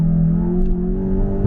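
A Volkswagen Golf GTI TCR Stage 2 with a DSG gearbox accelerates hard, its engine drone rising steadily and loud in a short continuous pull heard from inside the car.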